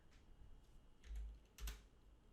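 A few quiet keystrokes tapped on a computer keyboard while entering panel dimensions for glass cabinet door CNC design, two brief clusters of clicks standing out over a low hum.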